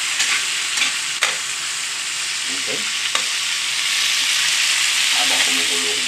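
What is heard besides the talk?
canned lechon sisig frying and sizzling in a pan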